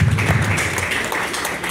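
A church congregation applauds to acclaim Jesus Christ during a prophecy service: a steady wash of many hands clapping, fairly loud and close, continuing throughout without a break.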